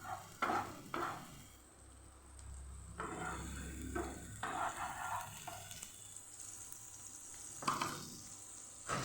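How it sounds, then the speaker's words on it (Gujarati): Gentle sizzling of garlic in a pan runs throughout, broken by a few louder bursts of stirring and scraping, with no one speaking. "થોડી વાર આપણે લસણને સાતળશું"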